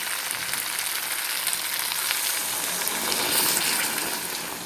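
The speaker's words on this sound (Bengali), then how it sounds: "এবার আমি একটু জল দিয়ে দেবো এর মধ্যে" Water poured into a sizzling paneer curry masala sets off a loud, steady hiss and bubbling frying sound that holds close and continuous throughout.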